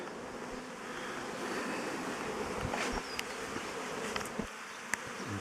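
A honey bee swarm buzzes steadily as it moves into a hive at an apiary, a dense continuous hum close by with soft outdoor wind behind it and a few faint clicks.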